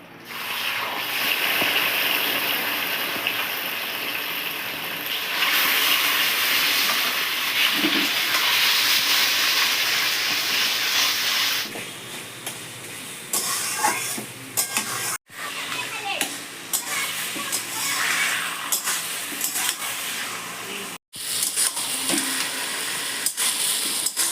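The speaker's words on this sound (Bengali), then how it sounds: "এবার আমি সিদ্ধ করে রাখা কচুর শাকটা দিয়ে দেব" Boiled taro leaves cook in a kadai with oil and green chillies, a loud hissing sizzle at first that settles into a quieter simmer with occasional clatter of stirring.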